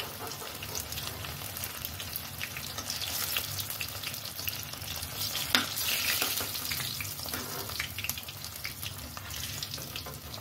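Cabbage pieces frying in a pan, a steady crackling sizzle with occasional stirring and spattering, close and fairly soft, with no talk.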